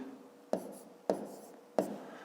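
Pen strokes writing out the numbers of a long-division problem for a fifth-grade math exercise: three short, distinct scratching bursts spaced about half a second apart, close and quiet, with no talk.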